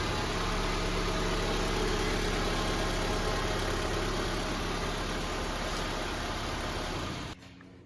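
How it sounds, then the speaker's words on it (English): A car engine runs at a steady idle after starting, a continuous mid-pitched hum with faint vibration throughout, then cuts off abruptly near the end; follows an engine oil and filter change. "So he started the engine"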